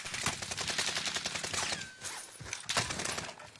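Rapid, continuous video-game gunfire rattles in dense bursts, loud and close throughout the stretch, with no talk over it.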